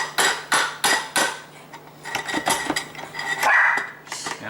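Sharp metallic knocks from a hammer driving a slotted screwdriver against the dishwasher knockout plug on an InSinkErator Evolution garbage disposal, several close, loud strikes at first, then quicker lighter taps and scraping.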